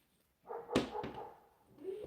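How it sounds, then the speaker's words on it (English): A dog barks indoors, giving a couple of sharp, fairly quiet barks in quick succession, followed by a softer whimpering sound. "Oh, I know why he's barking."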